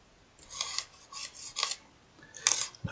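A brand-new blade scrapes in several short, crisp strokes, close and fairly quiet, with brief pauses between them.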